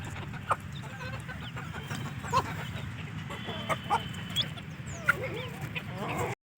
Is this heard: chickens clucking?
yes